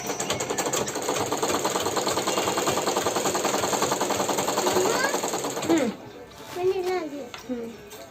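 An electric sewing machine runs a fast, steady rattling stitch along a seam of a ready-made nightie, then stops, and voices are heard afterward.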